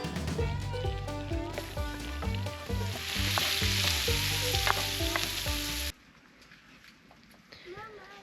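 Onion softens in half a cup of butter in a hot pan at an outback camp, a loud close sizzle and frying crackle that stops abruptly near the end, with people talking over it.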